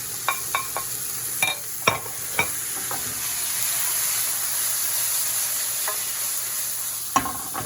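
Monkfish with chopped tomatoes and saffron sizzles steadily in a pan, punctuated by several sharp clinks and scrapes of a utensil stirring, close and fairly loud.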